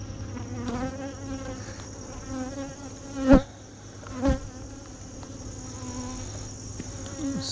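Steady, close insect buzzing from a swarm of honey bees at a hive's honey supers, continuous throughout with a couple of brief louder thumps partway through.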